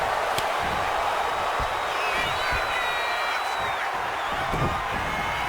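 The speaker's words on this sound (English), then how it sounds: "CM Punk playing to the crowd now." A video game wrestling crowd from WWE 2K26 keeps up a continuous roar of cheering and whooping, loud and constant throughout.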